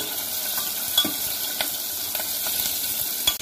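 Tomato pieces frying with onion, garlic, ginger and spices in a pan, making a dense continuous sizzle with occasional sharp pops and spatula clicks, close and loud with no speech.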